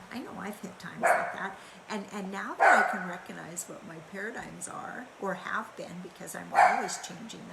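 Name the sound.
dog barking outside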